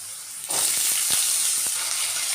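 Potatoes drop into hot oil in a wok already fried with black cumin and dried chilli, erupting into a loud steady sizzle with occasional scraping stirs, close and alone.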